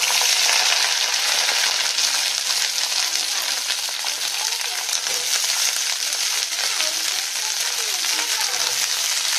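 Vegetables frying in hot oil give a steady, dense crackling sizzle, close and moderately loud throughout, with no talking.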